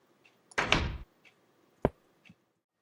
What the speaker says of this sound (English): since I opened this door